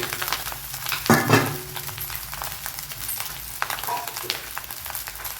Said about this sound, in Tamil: ரைஸை போட்டுக்கிட்டேங்க போட்டு நல்லா மிக்ஸ் பண்ணிக்கலாம்